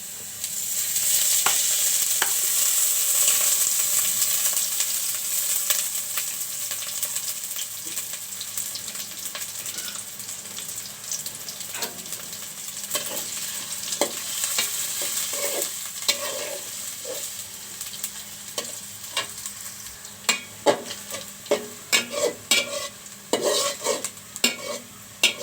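Mustard oil sizzling in a pan while food is stirred for a bottle gourd dish with hilsa fish bones, a steady hiss early on giving way to scraping stirs and clattering utensil knocks.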